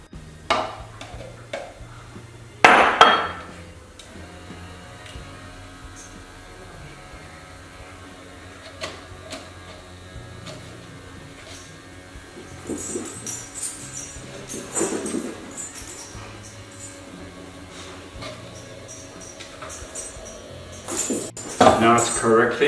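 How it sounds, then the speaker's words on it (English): Whole wheat and all-purpose flour sifted into a bowl, soft scraping and rustling with intermittent clinks of metal utensils against the bowl, close and moderately loud, a few louder knocks. "Now it's correctly aerated and sifted."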